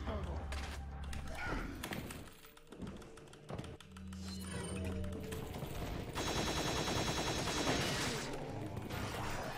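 Repeated gunfire in Resident Evil 4 during a speedrun, scattered sharp shots and quick bursts mixed with game effects, keyboard clicking and a talking voice over most of the stretch.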